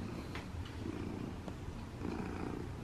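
A cat purrs quietly nearby, a soft rhythmic rumble that swells and eases with each breath, faint but steady in an otherwise still room.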